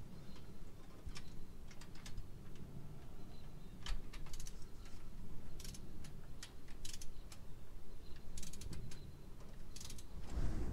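Ratcheting wrench on a spark plug job on a 2006-2014 Honda Ridgeline, with rapid clicking ratchet bursts and mechanical rattles at close range over a low background rumble, no talking.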